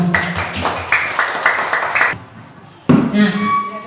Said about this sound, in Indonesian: Tepuk tangan untuk semua dong